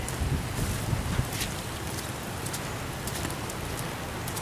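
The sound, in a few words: rain falling during Hurricane Sandy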